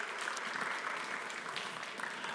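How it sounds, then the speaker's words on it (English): Conference audience at the Aspen-GMF Bucharest Forum applauding a speaker, a steady, dense wash of clapping from a large hall that holds at even loudness throughout. "A big round of applause if it's possible."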